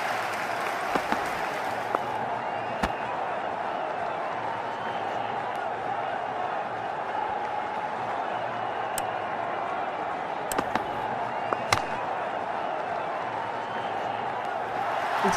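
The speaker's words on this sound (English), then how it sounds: "we have an electric crowd here" A large stadium crowd at a South Africa versus England cricket match roars and applauds continuously, with a dense, loud wash of cheering and scattered sharp claps throughout.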